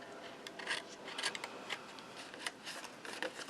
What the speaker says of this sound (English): So we can go ahead and snip out this outside corner altogether.